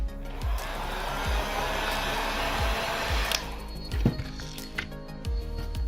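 Heat gun blowing hot air onto a Samsung Note 8 phone screen during a repair, a steady close airy roar that fades partway through, with small clicks and taps around it.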